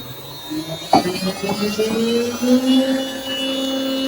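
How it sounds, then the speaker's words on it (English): A CNC router spindle spins up from a standstill, a rising whine climbing steadily in pitch over a few seconds, with a brief click at the start, then running at a steady hum. "I have to start my spindle manually by pressing this green button here."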